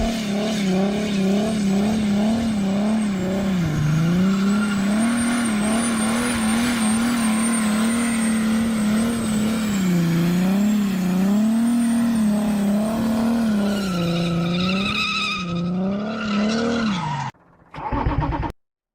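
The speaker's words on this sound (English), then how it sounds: "Now I find out the freaking diesel is badass." Diesel engine of a Mercedes sedan revving hard, a loud, steady drone with rising and falling pitch that runs nearly continuously, then cuts off sharply near the end before a brief final burst.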